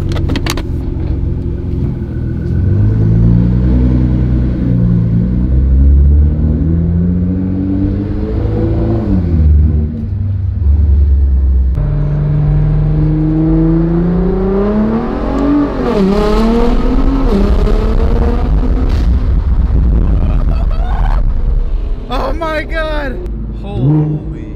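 Inside a 750 HP Nissan GT-R, the engine rumbles low and then revs up in rising sweeps, several times over. Passengers talk excitedly over the engine noise.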